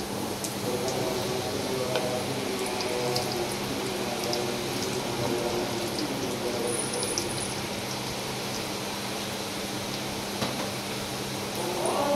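Namak poda frying in hot oil: a continuous, even sizzle with a rain-like hiss that holds steady throughout.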